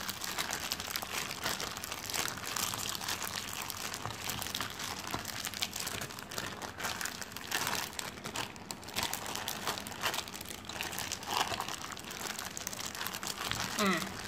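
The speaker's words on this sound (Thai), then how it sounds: "ขยำให้มันเข้ากันนะ" Hands knead and squeeze a fish paste mixture with kaffir lime leaves and beans for Thai fried fish cakes, giving a continuous soft wet crinkling and squelching that runs steadily throughout, close but fairly quiet.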